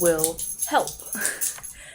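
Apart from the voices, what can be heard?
dog making noise wanting attention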